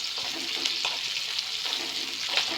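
Chopped onion fries in oil in a pan for noodles, a dense continuous sizzle close to the pan, steady and fairly loud with light stirring and no voices.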